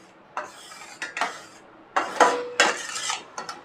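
A spoon stirs saffron milk rabri in a pot over a medium flame, scraping the metal in short irregular bursts separated by brief pauses, close and fairly clear.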